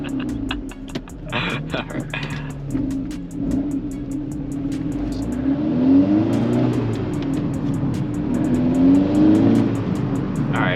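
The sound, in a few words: Volkswagen MK6 GTI car engine while driving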